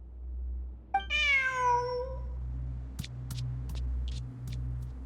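A cat in Genshin Impact gives one clear, drawn-out meow that rises and falls, followed by a few short faint clicks and taps over a low steady hum, with no talk.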